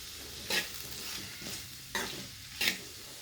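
Bottle gourd pieces with turmeric and salt stirred in a pan, a soft sizzle underneath with three scraping strokes of the spoon, close and alone.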